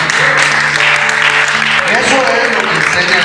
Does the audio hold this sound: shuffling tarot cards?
no